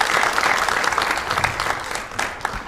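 An audience at a Western Cape football awards night gives a Malay choir a warm round of applause. The clapping is dense and continuous, and it fades slightly toward the end.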